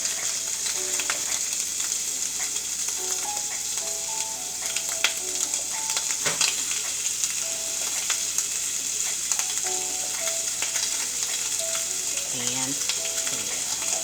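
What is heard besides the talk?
Italian sausage ground meat frying in a pan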